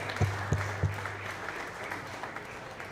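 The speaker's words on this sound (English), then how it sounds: "Give him a round of applause." Faint, scattered clapping for a baseball player at a West Genesee team gathering, a few sharp claps early on, then a thin wash of noise over a steady low hum.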